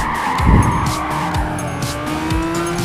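A race car in Gran Turismo 5 at Grand Valley Speedway downshifts with loud engine blips while its tires squeal and skid through a corner, with no voices heard.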